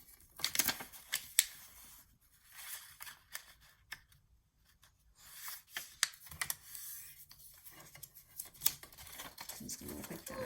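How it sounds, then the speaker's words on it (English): Vellum paper being folded along its scores for a handmade mini album, heard as a run of sharp crinkles, creases and taps close by, with quiet gaps between bursts. "I'm just gonna fold these because vellum is super finicky."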